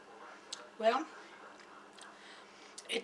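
Someone chews a bite of soft two-ingredient ice cream bread close to the microphone, giving a few moist, quiet mouth sounds and one louder chomp under a low steady hum.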